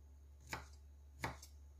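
Two crisp knife chops through onions on a cutting board for spring rolls, close and quiet, over a low steady hum.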